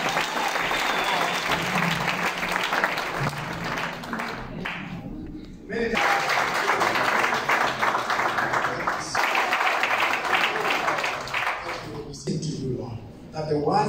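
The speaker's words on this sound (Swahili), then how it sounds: "Wapigieni makofi." A congregation applauds during a worship service at Bible Way Ministries church. The clapping comes in bursts, with a brief lull midway and another near the end, and speech mixes in.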